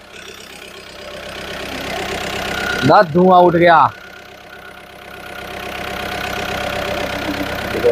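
Overhauled Volkswagen Polo 1.6 diesel engine idling steadily with a constant mid-low drone throughout, briefly covered by a voice speaking near the middle.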